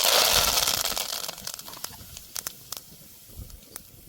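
Curry leaves dropped into hot oil with cumin seeds sizzle in a loud burst of hissing spatter that fades over a few seconds into scattered pops and crackles, close up.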